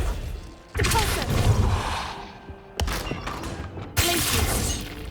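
A Depulso spell cast in Hogwarts Legacy bursts out as a series of loud, close magical blasts with sharp attacks and roaring noisy tails, three separate surges spread over a few seconds.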